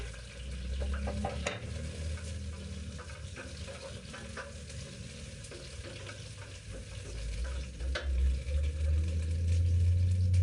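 Bagoong sautéing in a little cooking oil, a steady close sizzle and frying hiss with occasional stirring scrapes, a low rumble building underneath toward the end.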